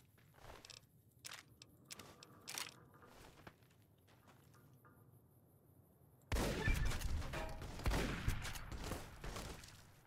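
Shotgun loaded with slugs fired in Fallout New Vegas: several sharp, separate blasts with quiet gaps, then a louder, busier burst of gunfire and impacts toward the end.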